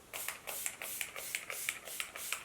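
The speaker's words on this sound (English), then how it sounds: "I'm going to set it just now with, again, the Insta Fix Go Spray." Insta Fix Go makeup setting spray misted in repeated short bursts, a steady train of soft hissy puffs close by with no talking.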